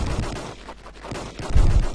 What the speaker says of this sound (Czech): Nevím, kdo mě střílí.